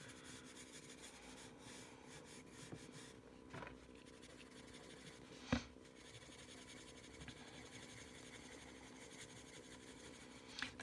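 Soft, continuous rubbing and scratching of a Spectrum Noir AquaBlend colored pencil lightly scumbling across paper, quiet and close, with a couple of brief louder bumps.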